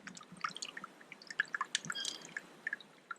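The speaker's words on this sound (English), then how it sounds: "you can even hear the water trickling down there" Water drips and trickles into a natural water hole on a mangrove coast, a quick run of small, close, irregular plinks and drops over a soft wet background with no voices.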